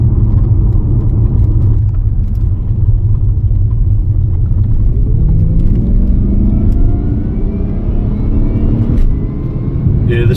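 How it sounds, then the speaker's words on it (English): A supercharged 2005 Jaguar XJR with its stock intake cruises along a road, a loud steady interior drone of engine and tire rumble with a faint whine rising gently as it accelerates. "let's take her out and find a little bit of stretch of road and see what the stock intake sounds like"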